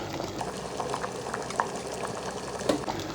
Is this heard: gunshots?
no